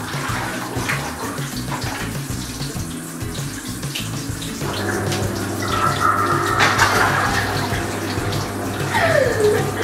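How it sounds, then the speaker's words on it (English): Water runs into a jacuzzi bath in a continuous loud gush, with a gurgling, bubbling rise in the second half as the jets seem to start. "Okay, put the jacuzzi on."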